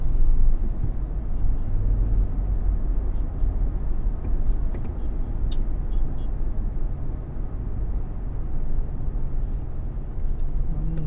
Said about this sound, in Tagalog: Nakarating na rin tayo sa traffic.